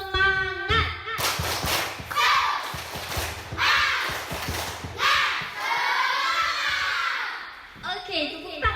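An audience at a community outreach competition performs the rhythmic 'tepuk semangat' clapping cheer, with sharp clap bursts in a patterned beat mixed with loud group chanting and voices.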